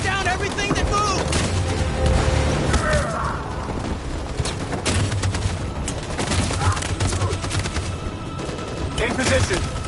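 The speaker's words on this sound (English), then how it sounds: "That machine gun is taking down everything that moves!" Sustained machine gun fire rattles through a tense battle in Detroit: Become Human, loud and continuous with booming hits, while voices shout over the din.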